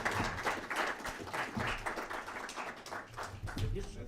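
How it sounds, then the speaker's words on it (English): Audience applause for former EU Economic and Social Committee president Staffan Nilsson, steady clapping from a room that runs the full few seconds and sits close and fairly loud. "you have received the applaud."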